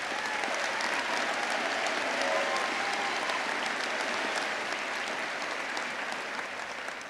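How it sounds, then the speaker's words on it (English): Applause from an audience fills a graduation ceremony hall as a dense, steady wash of clapping that lasts throughout, then tapers slightly at the end, with no speech over it. "let's give them a round of applause again"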